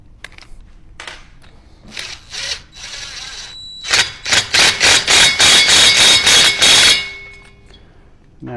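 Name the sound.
impact wrench starting a nut on a Harley Davidson Shovelhead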